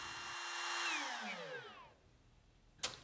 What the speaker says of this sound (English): using a router to cut them flush with the cabinet